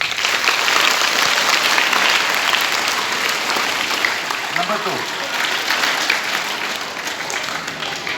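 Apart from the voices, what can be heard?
audience applause for the school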